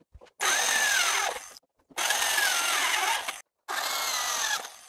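A power drill whines through three bursts of about a second and a half each, boring holes in a planter, separated by short pauses, close and loud with no voices.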